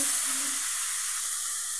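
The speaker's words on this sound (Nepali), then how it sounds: "अनि मजाले भुट्नु" Mustard greens and small fish fry in plenty of spices, giving a dense, even sizzle and hiss that carries on steadily and close throughout.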